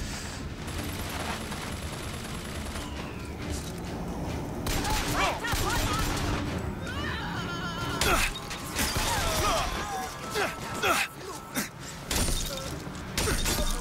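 Rifle gunfire in BioShock Infinite, with bursts of loud shots and crashing impacts mixed with game noise and effects, under a busy, dense soundscape.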